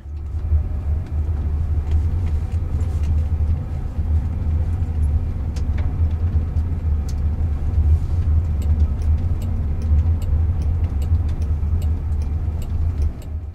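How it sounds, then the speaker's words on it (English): Waymo self-driving car rolling across a dirt and gravel parking lot, a constant low road rumble with scattered small ticks and crunches of gravel, steady and close throughout without talk. "So this is my first time riding Waymo on dirt."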